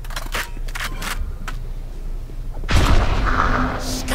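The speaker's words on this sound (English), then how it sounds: "if that detects anybody, or after a certain amount of time, it explodes like a grenade" A grenade-like ability in a competitive video game match bursts with a loud, sharp blast after a few seconds of quieter scattered clicks and game noise, leaving a lingering rumble and hiss.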